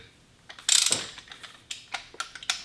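A ratchet wrench loosening bolts on a Mazda MX-5 Miata valve cover, a close run of fast clicking pawl ratchets followed by several separate shorter clicks, no voices.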